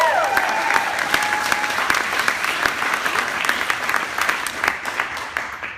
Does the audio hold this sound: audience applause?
yes